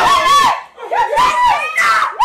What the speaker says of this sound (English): Let's get some screams.